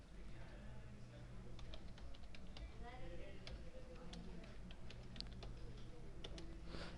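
Quick, light keystrokes click on a computer keyboard as a Linux command is typed. The taps are close and irregular over a low steady hum, with a voice speaking softly.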